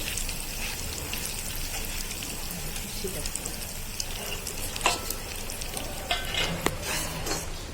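Garlic fries in oil in a pan until brown, giving a continuous low crackling sizzle with occasional sharper pops and a few scraping stirs toward the end, heard close and fairly quiet.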